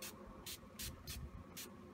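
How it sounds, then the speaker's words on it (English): NYX Dewy setting spray misted over a made-up face in five quick hissing bursts, each short and close, separated by brief pauses. "I'm just gonna set it with my NYX"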